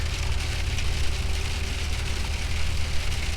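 Steady rain mixed with small pieces of snow pattering down outdoors on a road trip across rural Turkey, a dense continuous hiss with a low rumble beneath, fairly loud and unbroken with no voices.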